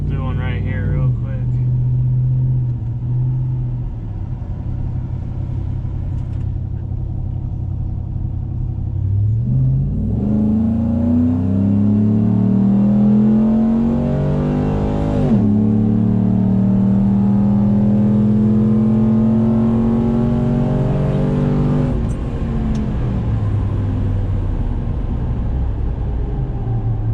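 A lifted truck's engine revs up hard from idle, the rising drone climbing through several gear-like sweeps over about twenty seconds before easing back, loud and close throughout.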